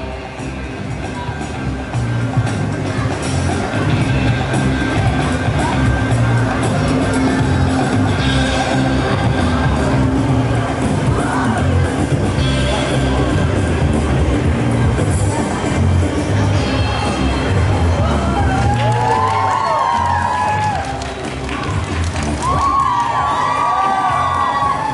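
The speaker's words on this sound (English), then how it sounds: "Get ready to clap and cheer." A live audience at a street-show contortion act cheers and shouts continuously, children's yells and whoops mixed into a dense, steady crowd roar with a few excited shrieks toward the end.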